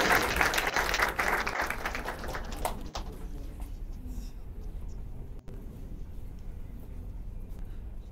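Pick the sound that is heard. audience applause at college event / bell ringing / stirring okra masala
audience applause at college event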